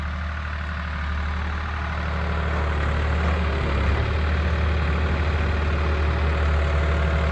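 A New Holland 3630 tractor, rated at 55 HP, idles close by with a steady, loud low-pitched diesel rumble that holds even throughout, swelling slightly partway through, with no talk over it.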